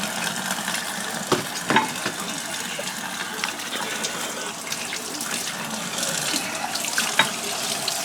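Tap water runs steadily from a sink faucet while a raw turkey is rinsed, a constant close splashing wash with a few small knocks and clatters of handling on top and no talk.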